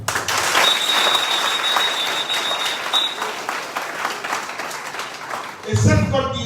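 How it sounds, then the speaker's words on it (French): A crowd at an Ivorian PDCI political rally claps and applauds for several seconds, loud and close, with a voice over a loudspeaker rising near the end. "Il faut s'applaudir pour ça."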